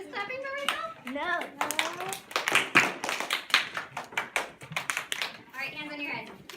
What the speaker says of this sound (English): Am I just clapping for myself?